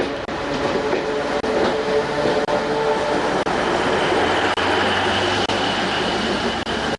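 A passenger office train runs steadily on its rails near Colombo, with a loud continuous rumble and rhythmic clickety-clack of wheels over rail joints throughout, without speech.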